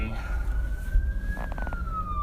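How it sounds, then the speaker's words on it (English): A police car siren wails steadily through the whole stretch, its pitch sliding slowly up and then easing back down over the low rumble of traffic inside a moving car. "There's a police car."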